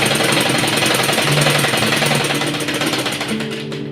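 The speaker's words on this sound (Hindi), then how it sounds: "पलटते हुए अब हम एक सिलाई यहाँ से लगाएंगे" A sewing machine runs a continuous fast stitching drone while sewing a seam on a baby girl's dress sleeve, loud and close, with the motor slowing slightly near the end.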